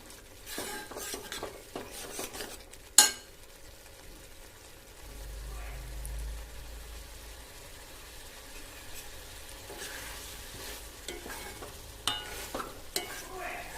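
A pan of goat brain masala is stirred and scraped while it cooks, with soft clinks of a spoon against the metal, a low steady sizzle underneath, and a sharp knock near the start.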